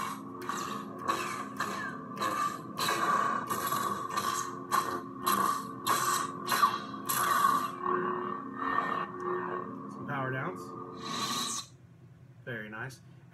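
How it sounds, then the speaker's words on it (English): Green lightsaber sound font demonstration: a run of swings, clashes, blaster bolt deflections and lockup crackles in quick succession, with humming, buzzing bursts and rising and falling tonal sweeps near the end. "this is just power on, swing, clash, blaster bolt, lockup"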